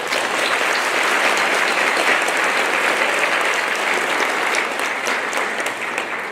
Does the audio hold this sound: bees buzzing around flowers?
no